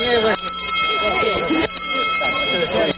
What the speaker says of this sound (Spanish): Digna Sicchique marca el paso con su campana